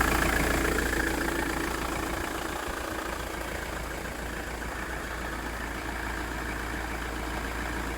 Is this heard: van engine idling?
yes